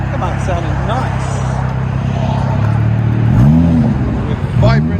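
A 2022 Dodge Challenger with a 3.6L V6 and Vibrant resonator exhaust revs in several rising and falling bursts, loud and close, with people talking over the engine between and during the pulls.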